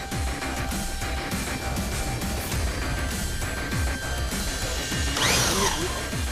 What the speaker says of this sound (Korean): 다음은 드릴로 직접 뚫기 시작한다.